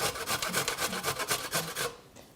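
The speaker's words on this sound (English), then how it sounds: "I just leave the skin on it and we just grate it up." Fresh turmeric root, skin left on, is rubbed against a grater in about nine quick, even rasping strokes. The strokes are close and clear and stop abruptly near the end.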